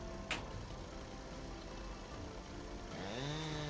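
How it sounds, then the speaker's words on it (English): A chainsaw runs steadily through a felling cut on a tree more than two feet wide while clearing land for a house, droning close and continuous, with a brief sharp crack near the start and a rising whine toward the end. "My chainsaw's not quite that long."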